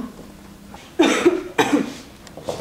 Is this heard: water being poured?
no